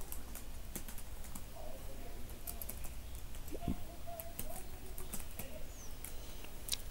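Faint, scattered clicks of someone typing on a computer keyboard while filling in a form, with irregular taps spread across a quiet room background and no talking.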